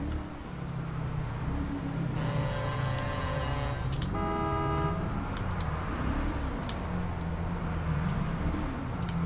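In a FiveM Romanian roleplay drive, a car horn honks in two sustained blasts over a steady engine drone, with a wavering siren-like tone weaving through and a few faint clicks.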